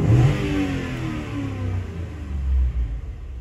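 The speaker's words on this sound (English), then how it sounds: "So I'm going to go ahead and just kind of snap the throttle." A Ford engine revs hard as the throttle is snapped during a check-engine-light repair, a loud close rumble that climbs and falls back, then swells again near the end, with no voices.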